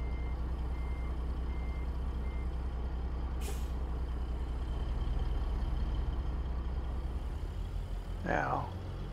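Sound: truck reversing in American Truck Simulator video game

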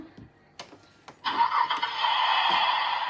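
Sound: toy car engine starting from a game

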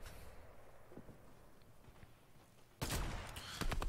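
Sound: short burst of gunfire in Fortnite video game

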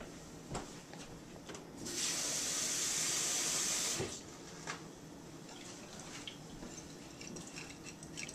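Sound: water being added to a tahini sauce

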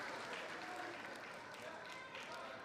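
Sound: spectators applauding a wrestling move

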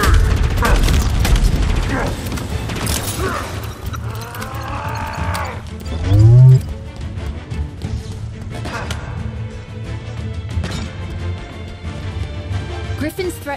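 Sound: grenade explosion in video game Halo Infinite

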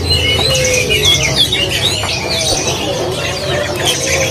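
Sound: caged songbird chirping

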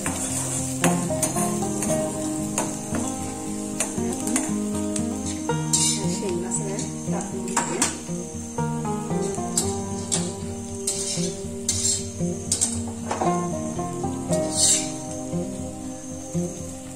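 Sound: ginger garlic paste being sautéed and stirred in pan

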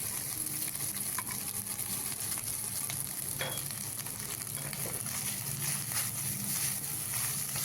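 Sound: onion, garlic and green chillies frying in a pot

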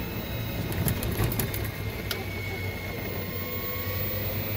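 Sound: Club Car golf cart differential transaxle noise while coasting

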